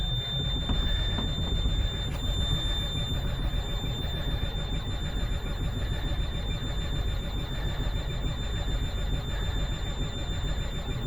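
A Mack Vision 460 truck's engine cranks and churns steadily, trying to catch and run, at a moderate level with a faint high whine above it and no voices.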